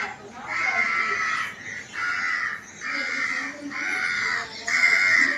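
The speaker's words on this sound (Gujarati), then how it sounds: "કાગડો આવ્યો હે." A crow caws nearby, five or six loud, harsh calls spaced at a slow, even rhythm, with faint background noise between them.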